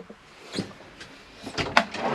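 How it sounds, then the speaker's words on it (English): Drawers in the kitchen of a 2013 Tracker RB camper van slide and click open and shut, giving several short, close knocks and rattles spread across a quiet interior with no talking. "Your cutlery drawer and your various other drawers here."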